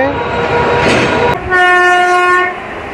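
The Bhubaneswar–Rameswaram weekly express rumbles in with rattling carriages, a sharp click, then a long loud horn blast of about a second sounding close by.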